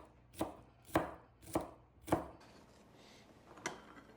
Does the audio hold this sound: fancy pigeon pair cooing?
no